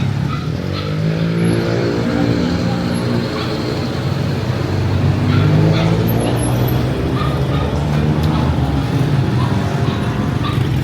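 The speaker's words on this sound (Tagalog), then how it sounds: "Saturday, heavy traffic" Heavy Saturday night traffic along Fields Avenue in Angeles City makes a dense, continuous rumble of car and bus engines passing close by, with idling motors and occasional voices mixed in.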